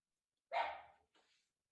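A dog barks twice at a distance, one fuller bark followed by a shorter, fainter one, with silence around them.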